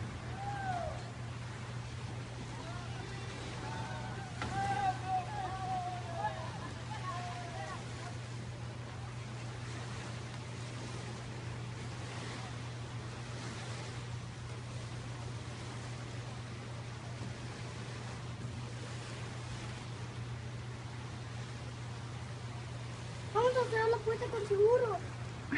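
A boat arrives on open sea off Miami carrying Cuban rafters, its faint steady motor hum droning far off beneath scattered voices and shouts that rise near the end.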